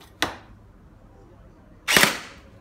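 Two sharp shots from a modified airsoft HK UMP45 with a Gen8 gearbox, fired through a chronograph; loud, close, about 1.7 seconds apart, with no talking.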